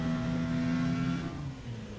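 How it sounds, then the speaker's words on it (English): An electric Formula E race car, a 2015 United States round, runs with a rough, uneven whine and hum that steadies for about a second before dipping and faltering, loud and close, with no talk over it. "that engine doesn't sound healthy"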